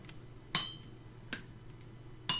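Hammer striking metal while smithing a scythe head in Vintage Story: three sharp, bright clanks spaced unevenly, each with a short ringing tail over a quiet hum, with no talking.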